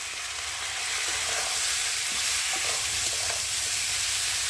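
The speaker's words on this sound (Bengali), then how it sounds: "জিরে বাটা আর আদা বাটা দিয়ে ভালো করে কষিয়ে নেব।" Prawns fry in oil with ground cumin and ginger paste masala, giving a steady, even sizzle with a constant hiss throughout and faint scraping underneath.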